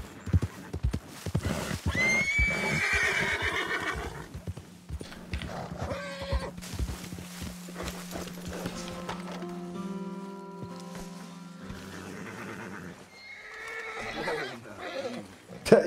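Horses in the Red Dead Redemption 2 game whinny and neigh several times over clip-clopping hooves, with game music and a voice talking at points.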